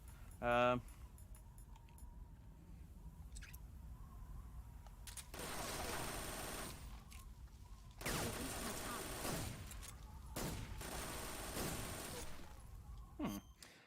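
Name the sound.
gunfire in Metal Gear Solid 3 video game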